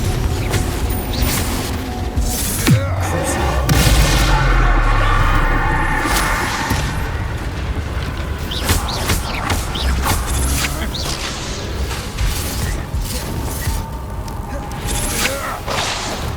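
Spell blasts in the video game Hogwarts Legacy: repeated whooshing bursts and booming explosions, loud and close, with rumbling impacts and clatter between them, scattered through a busy stretch of combat.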